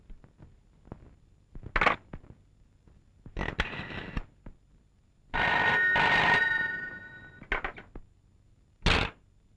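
A telephone rings during a phone call in a series of separate bursts with quiet gaps between them, the longest burst in the middle, sounding close and clear.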